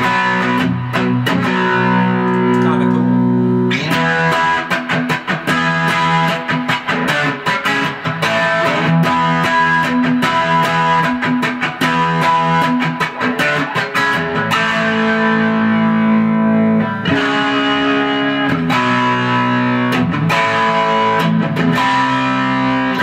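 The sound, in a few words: electric guitar with distortion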